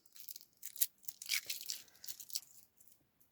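Crinkly tearing and ripping noises in short bursts as tape is pulled off the sides of a cardboard package, close by with no talking.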